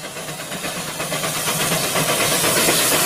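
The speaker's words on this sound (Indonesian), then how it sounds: "Wow, lihat teman-teman, ada kereta api." A toy train circles around a pile of toys, giving off a steady, close hissing rush with faint rhythmic chugging pulses that grow slightly louder over a few seconds, with no voices.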